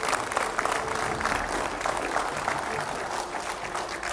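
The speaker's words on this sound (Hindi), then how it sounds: "जोरदार तालियों से स्वागत कीजिए" A crowd applauding steadily, a dense wash of clapping that holds at an even level throughout.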